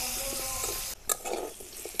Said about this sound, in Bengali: এবার আলুগুলো একইভাবে ভেজে নেব।